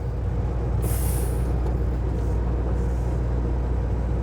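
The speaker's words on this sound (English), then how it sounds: "I'm gonna pull the service brakes and make sure the service brakes work." Air service brakes on a truck tractor being applied, giving a sharp hissing burst of released air over a steady low engine rumble, followed by a fainter second hiss.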